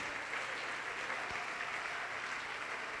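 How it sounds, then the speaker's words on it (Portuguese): Congregation applauding during a church service, a sustained even roar of many hands clapping, fairly distant and steady for three seconds with no speech. "vamos aplaudir mais ao nome do Senhor"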